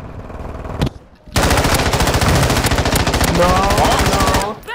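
Rapid automatic gunfire in a video game, a long loud sustained burst of closely spaced shots after a short pause, with a voice speaking briefly over it near the start.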